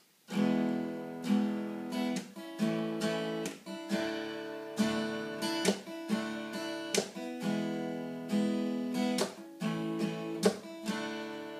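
Acoustic guitar playing strummed chords in a steady rhythm, close and clear, with brief pauses between phrases and no voices.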